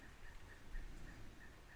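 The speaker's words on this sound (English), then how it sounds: "That's a cool bird sound." A bird calls faintly, a short repeating chirp pulsing about twice a second over a low background hum, distant and quiet, with no talking.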